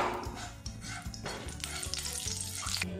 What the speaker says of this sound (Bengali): এবারে এর মধ্যে এক টুকরো করে গোটা গরম মশলা দিয়ে দিলাম, এটা ফোড়ন করে নেব।